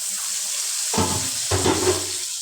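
Bitter gourd frying in oil in a covered pan, the lid lifted partway: a steady background hiss gives way to louder, fuller sizzling with a couple of clattering swells near the end, no voices.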